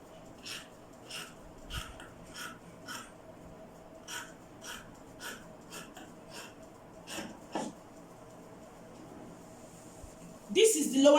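Scissors cut a V-shaped front neckline into the fabric of a cowl kaftan, giving a steady run of crisp snips close by. A louder rustle of handled cloth follows at the end.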